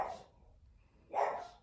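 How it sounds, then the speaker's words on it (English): A dog barks indoors nearby, two short muffled barks about a second apart with a quiet gap between them. "My dog."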